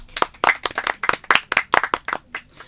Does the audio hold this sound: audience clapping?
yes